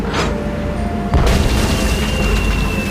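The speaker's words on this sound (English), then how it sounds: "it's one of those spiffy new Hungarian easy-action cannons I've been begging Elaine to let me buy" Cannon firing in the video game Tales of Monkey Island, a single deep boom that breaks over a steady background tone, followed by lingering rumble.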